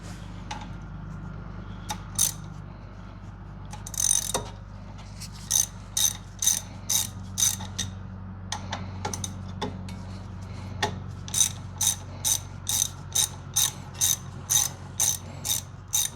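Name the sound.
tightening brake caliper bolts with a ratchet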